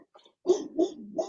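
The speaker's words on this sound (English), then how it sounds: "I hear your dog" Dog barking in the background of a home during a conversation, three short muffled barks or yelps in quick succession, moderately close with no talk over them.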